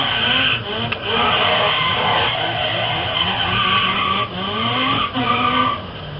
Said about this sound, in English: I'm not using the e-brake to do all this drifting, I'm just using the flow.